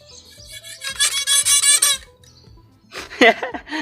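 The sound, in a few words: rababa (Arabic bowed fiddle) squeaking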